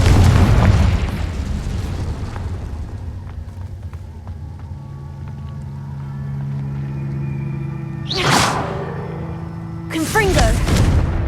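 A Confringo blasting spell goes off twice in Hogwarts Legacy, two sharp booming bursts near the end that follow a long stretch of rumbling game ambience.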